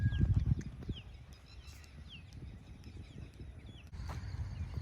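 The mare Gulal, 65 inches tall, walks on a horse farm with a steady clip-clop of hooves that is clearest at the start. Faint birds chirp in the background.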